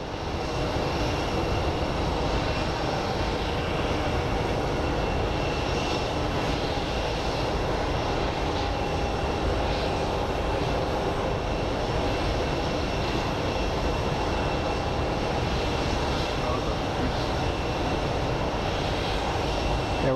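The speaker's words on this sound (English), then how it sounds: "And in the background, you can see another plane lining up." Steady, continuous jet engine roar of an airliner lining up on the runway at Phoenix Sky Harbor International Airport under dark clouds, a constant broadband rumble that holds even and fairly loud throughout with no voices.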